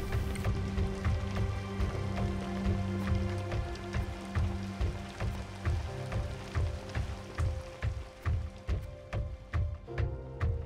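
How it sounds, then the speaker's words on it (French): Continuous rain in the PC video game Reset patters steadily with repeated sharp drip-like ticks, layered over a low droning hum, no voices. "La pluie s'est arrêtée, elle recommence."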